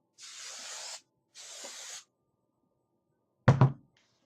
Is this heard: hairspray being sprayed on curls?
yes